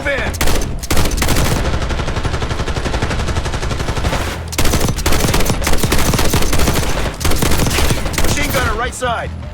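Heavy gunfire in Call of Duty Black Ops 6, loud bursts of automatic weapons and dense overlapping shots running almost without pause, with brief gaps between volleys.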